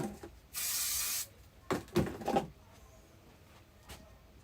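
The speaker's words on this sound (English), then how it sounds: "A little bit of spray glue on the back." Spray glue hisses from an aerosol can onto the back of a card, one long close burst followed by a few shorter sprays, with quiet handling between them.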